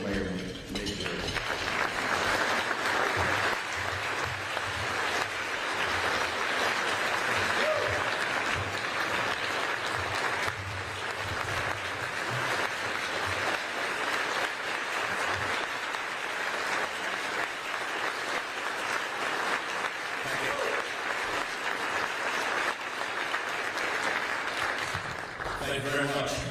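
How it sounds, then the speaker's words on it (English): Sustained applause from a large audience at a city State of the City address, welcoming the mayor of Hoover, a dense, steady clapping roar lasting almost half a minute without pause. "Please join me in welcoming Mayor Nick Derzis."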